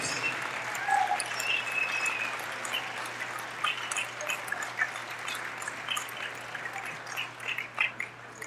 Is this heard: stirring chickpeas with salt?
no